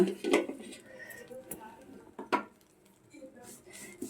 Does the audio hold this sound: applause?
no